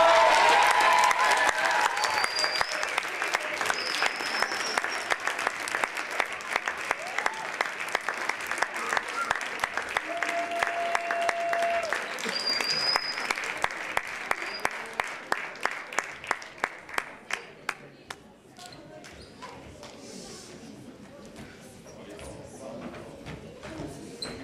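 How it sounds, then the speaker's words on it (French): A crowd in a theater applauds a school class from La Courneuve, dense clapping that gradually thins to scattered individual claps and dies down toward the end. "je vous demande d'accueillir avec un tonnerre d'applaudissements cette classe de la Courneuve"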